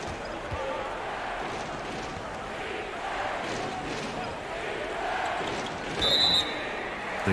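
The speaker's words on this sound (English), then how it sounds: "The crowd is chanting defense" A virtual arena crowd in the NBA 2K23 basketball game chants for defense, a sustained rhythmic roar under a commentator's voice, with squeaks and court noise mixed in.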